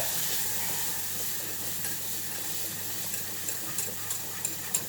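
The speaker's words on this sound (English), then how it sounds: "phases of it melting and caramelizing. You need to whisk it pretty continuously." Vegan butter melts in a pan under continuous whisking as it slowly caramelizes, giving a soft, steady sizzle and hiss with a few light whisk taps toward the end.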